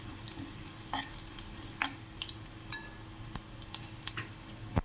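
Garlic and cumin fry in oil for a cluster bean dish, a soft steady sizzle sitting low in level, punctuated by sharp clicks and clinks of a utensil against the pan every second or so, with no talking.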